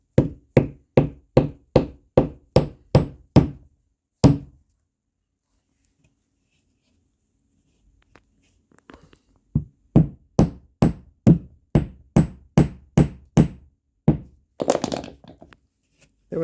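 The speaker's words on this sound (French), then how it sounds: "je tapote avec le marteau pour enfoncer la cheville sur les 8 cm" A hammer taps a wooden dowel into a wooden beehive box, two runs of about a dozen sharp, evenly spaced knocks each, separated by several seconds of near silence, loud and close with no talking.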